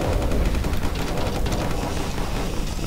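A rocket striking a ship's energy shield in the space combat game Starfarer, heard as a dense, continuous crackle of loud impacts and blasts with no speech.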